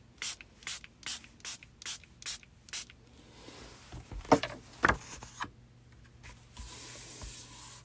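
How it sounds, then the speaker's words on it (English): About eight quick squirts of ink from a spray bottle in a steady rhythm, followed by soft rustling and handling noises. "we can just spray it like this."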